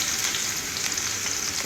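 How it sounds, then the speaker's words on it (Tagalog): String beans and eggplant with sardines sizzle as they sauté in a clay pot, a steady close frying hiss with faint stirring. "Nakasalang na yung aking palayok at magigisa na po ako."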